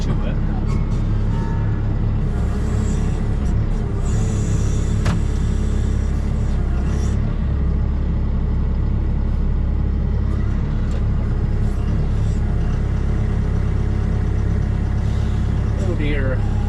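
A John Deere 6120E tractor engine idles and rumbles low and steady while carrying a hay bale, with someone talking over the running engine.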